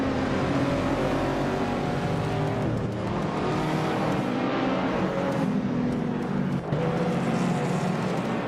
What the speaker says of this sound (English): Nothiusaurus Rex is driving a 2016 BMW M4 GTS